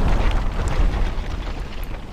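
A powerful explosion rips through a tree after it is shot with a Rival Rebels mod weapon in Minecraft. It is a loud, close boom that dissolves into a sustained rumbling roar, with no voices.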